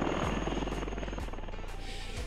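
A UH-1N Huey helicopter's rotor beats in a steady, rhythmic chop beneath a continuous engine whine, at moderate loudness with no talking.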